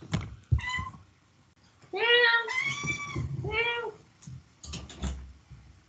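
A house cat meows insistently to be let out, giving three drawn-out, close meows in quick succession, with soft knocks and thumps before and after.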